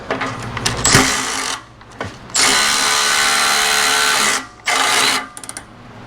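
Power tool zipping out exhaust bolts on a Toyota GR86 during a cat-back exhaust install, sounding as bursts of high whirring, one long run of about two seconds and a shorter one after, with clanks and pauses between.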